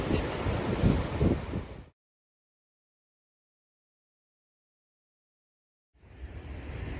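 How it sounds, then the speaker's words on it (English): Ocean waves of a big coastal swell wash and roar with strong wind buffeting, close and loud, broken by about four seconds of dead silence midway before resuming. "It's a pretty big swell along the coast."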